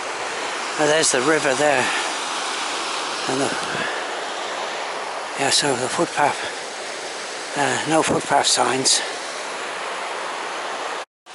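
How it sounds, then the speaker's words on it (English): A river rushes through Cwm Cynfal near a waterfall after heavy rain, a steady broadband roar that runs unbroken beneath a man's intermittent speech. "There's the river there."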